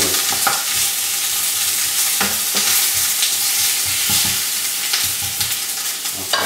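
Onions frying in a splash of oil for ratatouille give off a loud, constant sizzle, with repeated scraping stirs of a spoon or spatula across the pan.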